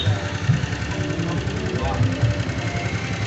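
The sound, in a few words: Yamaha Jupiter MX motorcycle engine started and idling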